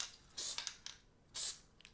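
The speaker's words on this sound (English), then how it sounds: "We're now going to spray it with the spray adhesive." Two short, soft hissing bursts of spray adhesive from an aerosol can land on a folded template for a clear plastic canopy, with faint rustling between them.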